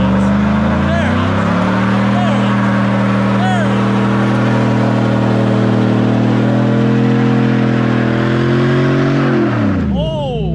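Car doing a burnout on wide 375/45R22 tires, a loud sustained engine roar held at high revs for about ten seconds, then dropping off as it ends, close to the listener.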